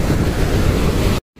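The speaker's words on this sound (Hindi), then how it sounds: "बहुत ही ठंडी हवा चलती है" Cold wind roars steadily across the microphone on the mountain trail to Vasudhara falls near Badrinath, loud and broadband with no talk, then cuts off abruptly near the end.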